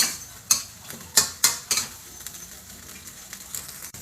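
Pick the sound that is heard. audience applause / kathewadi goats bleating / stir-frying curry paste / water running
stir-frying curry paste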